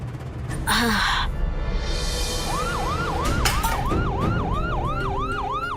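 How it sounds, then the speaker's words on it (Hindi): An emergency siren whoops in rapid repeating rising sweeps over a steady rumble of road traffic, fairly close and loud. "वो अचानक से सायरन की आवाज सुनी तो हम घबरा गए।"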